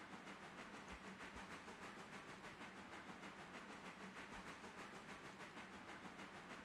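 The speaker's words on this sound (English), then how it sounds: "Meanwhile, steam locomotive." A steam locomotive runs steadily in the railway game Railroader, a continuous hissing, chuffing roar with a faint rhythmic pulse, heard alone at moderate level.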